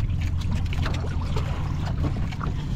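A small boat engine chugs steadily with low rumbling throb, accompanied by wind buffeting the microphone.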